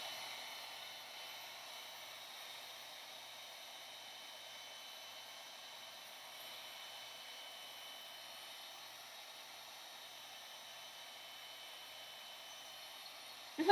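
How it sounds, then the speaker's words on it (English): A large heat gun blows a faint, steady, airy whoosh, held continuously for over ten seconds while drying small junk-mail art tags, ending with a small click. "let me get my big heat gun here"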